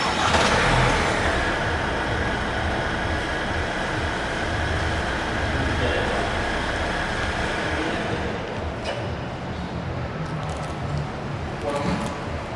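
A 2023 Hyundai Santa Fe 2.2 CRDi diesel SUV idles steadily after a remote start, a continuous mid-pitched engine drone that stays loud and even throughout with no talk over it.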